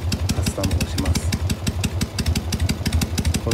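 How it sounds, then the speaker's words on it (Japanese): A Harley-Davidson motorcycle engine idles up close with custom three-beat tuning, giving a loud, lopsided, lumpy pulse that repeats evenly throughout. "これであなたのオートバイも3拍子打つと思いますので"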